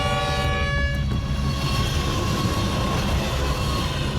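A heavy train descending a grade with dynamic brakes applied in Australia gives a loud, continuous rumbling drone, with a tonal horn-like whine fading out during the first second.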